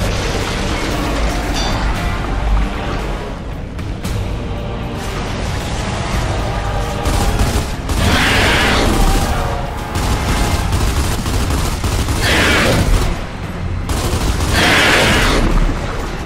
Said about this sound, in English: Grenade. Definitely grenade.